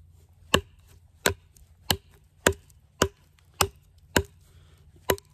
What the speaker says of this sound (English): I'm going to just do a little bit of light chopping here and kind of get a feel for it